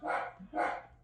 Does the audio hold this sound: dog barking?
yes